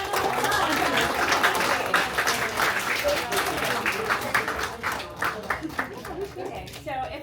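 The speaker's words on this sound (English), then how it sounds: "Why don't you give yourselves all a big round of applause?" Clapping from an audience gathered at an arts event, a lively round of applause that thins into scattered individual claps toward the end, with some voices mixed in.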